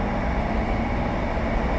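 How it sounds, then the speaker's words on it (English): A loud, steady train rumble rolls on continuously as it pulls into a station, low and heavy, with no voices. "We're literally pulling up at a destination at a train station right now"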